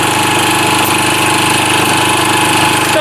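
A used machine's engine runs steadily and loudly close by, an even drone with a faint repeating hammering knock ticking underneath, and no voices over it.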